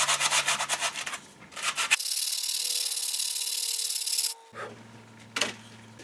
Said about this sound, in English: Highly sophisticated sanding technique.